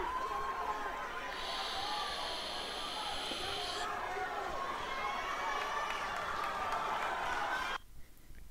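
Boxing arena crowd cheering and roaring in a steady broad wash, with a shrill whistle-like tone partway through and talk over it, cutting off abruptly near the end.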